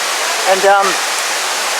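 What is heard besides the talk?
waterfall at Uadomo Waterfall, Fiji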